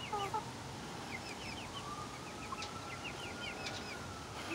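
A hen in a backyard coop clucks softly at a distance, a few short chirpy calls in a quiet outdoor setting with faint background noise and no talk.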